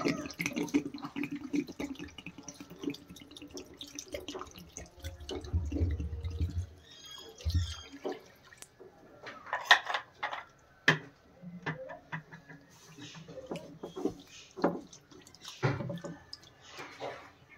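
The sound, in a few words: water poured over bottle gourd leaves to soak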